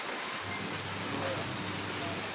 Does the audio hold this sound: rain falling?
yes